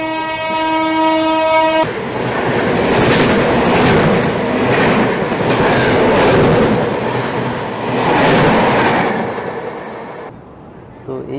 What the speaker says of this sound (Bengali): এইমাত্র যে ট্রেনটা গেল দার্জিলিং মেল ক্রস করলো